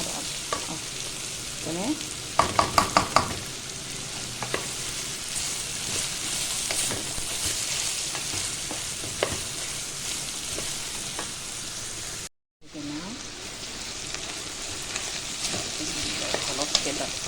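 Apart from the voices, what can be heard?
frying green beans with onion in a pan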